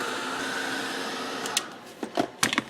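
Hair dryer blowing on freshly sprayed mica shimmer spray, a steady close whir that cuts off partway, followed by a few light clicks and knocks.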